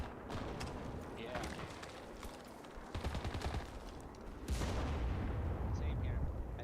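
Artillery fire in the World War II shooter Enlisted, a rumbling barrage of booms and crackling gunfire, dense and continuous, swelling louder toward the end.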